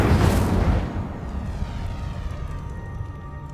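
An Incendio fire spell cast in Hogwarts Legacy inside a cave bursts with a loud whooshing blast at the start, then fades into a low, rumbling crackle that lingers to the end.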